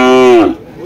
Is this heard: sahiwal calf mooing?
yes